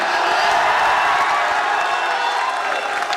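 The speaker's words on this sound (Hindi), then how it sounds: "आपको लगता है कुमार वर्मा सर के लिए इतनी तालियां पर्याप्त है?" A packed audience at a student meetup in Patna claps and cheers for a teacher, a loud, continuous wash of applause and shouting that stays at full volume for the whole stretch.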